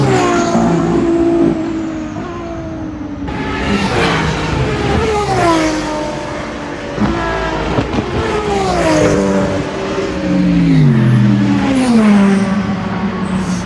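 Race cars roar past a general-admission spot at a WEC endurance race at Imola, engines loud and close, pitches sweeping downward as each car passes, one after another in a steady stream.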